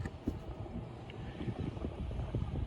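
The blower motor of a Lennox package rooftop unit runs with a low, steady rumble and whoosh, overlaid by faint wind-like noise with no talking.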